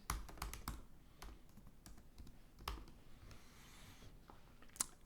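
Keys clatter on a computer keyboard as a short file name is typed, a handful of quick close taps followed by scattered single clicks in a quiet room.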